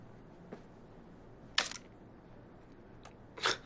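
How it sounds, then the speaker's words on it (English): A camera shutter released by its self-timer spring gives a sharp mechanical snap, then another click follows after a quiet pause. There is no talk. "you see the self-timer and the spring for the shutter are connected, so it wasn't broken, it just was stuck"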